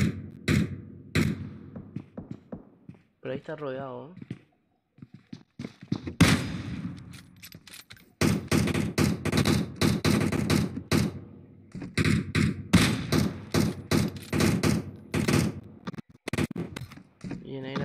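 Bursts of rapid gunfire in PUBG Mobile crackle in clusters while a voice talks over them, with quiet gaps between volleys.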